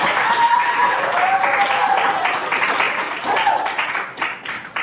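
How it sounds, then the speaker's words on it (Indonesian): A classroom of students claps for a group after its presentation, a steady round of applause that tapers off over a few seconds, with faint voices underneath. "Sekali lagi kita kasih tepuk tangan untuk pada subjek"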